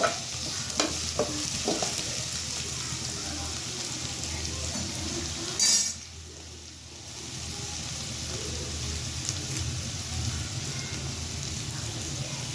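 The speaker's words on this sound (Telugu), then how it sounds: "ఎక్కువ ఫ్రై చేసుకోకూడదండి, ఎందుకంటే మనకి దోరగా వేయించుకుంటే బాగుంటాయండి." Egg rice ingredients frying in a pan while being stirred, a steady close sizzle with scraping strokes, a sharp clatter partway through, then a quieter softer fry.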